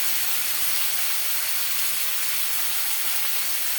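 Cleaned shrimp hitting hot oil in a home kitchen set off a loud, steady hiss of sizzling that holds evenly throughout with no breaks.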